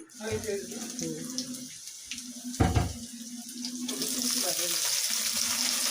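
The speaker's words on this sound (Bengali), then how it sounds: "এটাকে আমি আগে একটু দিয়ে নিয়ে একটু ভেজে নিচ্ছি" Carrots sizzle steadily in a pan, a hissing crackle that grows denser toward the end, with a voice speaking over it.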